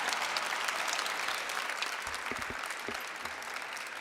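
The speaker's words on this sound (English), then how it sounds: "Let's give them another round of applause." An audience at a 2019 Women's History Month opening ceremony gives three honored women another round of applause, sustained and fairly loud clapping with a few sharper claps standing out midway.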